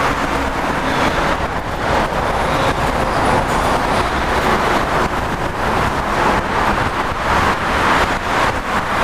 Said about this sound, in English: There's lots of traffic this time of day